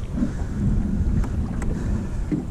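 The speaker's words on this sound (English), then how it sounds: "it's really getting windy now" Wind gusts over a lake during bass fishing, making a steady, loud, low buffeting rumble against the microphone that lasts throughout, with no talking.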